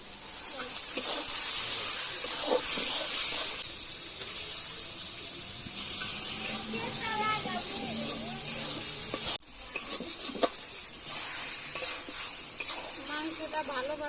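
Washed chicken pieces tossed into fried spice paste in a pan, a loud steady sizzle with repeated scraping and stirring strokes close up, a brief knock partway through.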